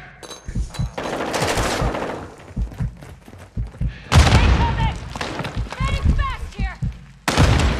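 Bursts of automatic gunfire and loud blasts from a grenade fight in Call of Duty Modern Warfare II, rattling in volleys with pauses between, while players talk excitedly over the combat.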